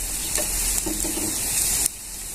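Corn fritters (bhaji) sizzling loudly in hot oil, a close steady crackling hiss with a few brief clinks and stirring sounds, then cutting to a quieter, softer fizz near the end.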